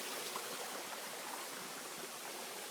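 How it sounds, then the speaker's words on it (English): Waterfall on Mt Greylock, a steady, even rush of falling water, fairly soft and continuous throughout with no other sounds. "This is just one of the many waterfalls that we've encountered."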